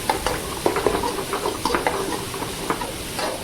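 Onions sautéing in a pan for a simple bachelor-style onion rice, a steady close sizzle broken by frequent scraping and stirring clicks from a utensil against the pan, with no voices.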